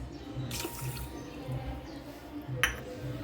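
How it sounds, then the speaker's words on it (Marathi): Water is poured from a small bowl into sugar in a pot to make syrup, giving a soft close trickle and a few light splashes over a quiet background. "दोन चार वाट्या एवढं पाणी या साखरे साखरेमध्ये घालून घेणार आहे"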